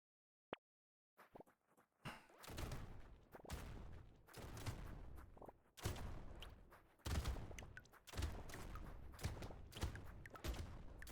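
Twin shotguns blasting away in the arena shooter Brotato, a dense run of loud, overlapping bursts that keep hammering from about two seconds on with brief gaps between volleys.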